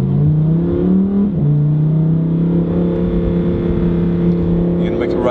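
A Lamborghini Huracan Performante engine drones steadily, its pitch dipping briefly and then holding, with a rising rev near the end; distinct exhaust cracks and pops are not clearly picked out.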